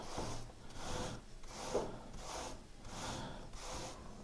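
Repeated soft rubbing strokes over a 1952 Weird Fantasy comic book cover to lift off dirt, making a gentle, rhythmic papery swish about every half second, close and quiet, with no voices.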